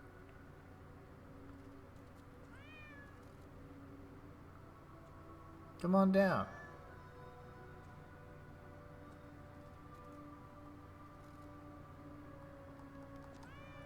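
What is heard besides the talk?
cat meowing in video game Lies of P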